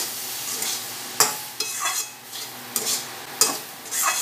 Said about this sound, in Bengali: এই জল দিয়ে সুন্দর করে নাড়িয়ে দেবেন।